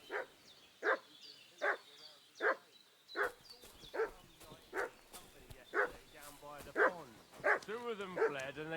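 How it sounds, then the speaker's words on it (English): A dog barks in Kingdom Come Deliverance II, sharp evenly spaced barks repeating about every half second at close range, with a voice talking over the final few seconds. "What's that dog making such a fuss about?"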